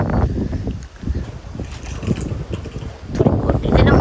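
Outdoor wind gusting on a sunny day, a steady broadband rush with buffeting on the microphone that swells and eases throughout, loudest toward the end, with faint voices underneath.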